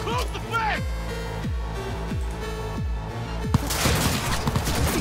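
Pistol fire in the video game Cyberpunk 2077, a run of sharp, regularly spaced shots with booming low tails, followed by a louder burst of combat noise, while a person talks over the gameplay.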